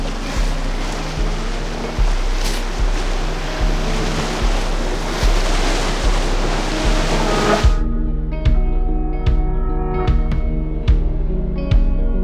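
Loud, continuous rushing roar of river rapids during a raft run on a polluted Australian river, steady and close for most of the stretch, then dropping away abruptly to a quieter, low watery rumble with sparse knocks and splashes.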